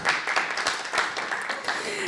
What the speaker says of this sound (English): Yeah, you may applaud.